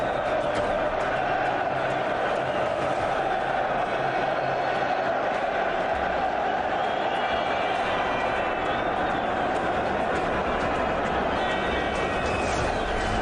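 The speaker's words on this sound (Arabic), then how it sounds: "دعونا نستمتع بأصوات الجماهير في هذا الملعب الجديد" A large crowd fills a new football stadium with a steady, dense roar of voices and cheering, continuous and loud throughout, with distant chanting swelling in places.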